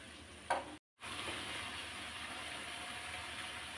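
Spices frying and being stirred in a pan on low heat while green beans and potatoes are cooked with them, giving a steady soft sizzle after a brief break in the sound, with no one talking.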